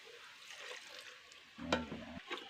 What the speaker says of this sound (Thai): กะปิหรือว่าเคย กับ พริกแกงนะผัดให้หอมเลย